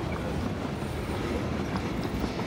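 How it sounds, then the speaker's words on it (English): A train moving in PlayerUnknown's Battlegrounds, a steady low rumble with faint rhythmic clatter, continuous and fairly loud, with no talking. "Don't fall off the train."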